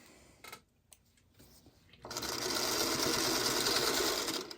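A sewing machine stitching quilt block pieces starts after a few quiet handling clicks, then runs as a steady, loud, close whirring drone to the end.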